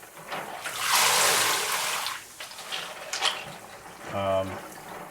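Vintage computer keyboard keys swished and sloshed in a container of very hot water, a loud washing surge followed by softer trickles and splashes, with a voice speaking briefly.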